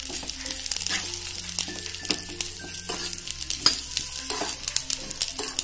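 Dried coconut pieces frying in hot butter with a lively, crackling sizzle, stirred now and then with soft scrapes and clicks in the pan.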